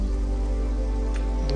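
Steady rainfall in the game TES IV: Oblivion, a dense even hiss with no talk over it, plus faint soft ticks near the end.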